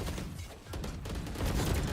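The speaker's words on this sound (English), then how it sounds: "Going for the wall bangs." Gunfire shot through walls during a competitive video game match, a dense rapid fusillade of close, loud bursts that runs almost without a break.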